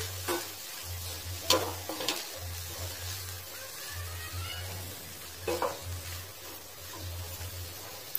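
Manathakkali greens stir-fry with coconut being mixed in a pan, a soft, low sizzle with a few sharp scraping strokes from stirring, quiet overall with a steady low hum underneath.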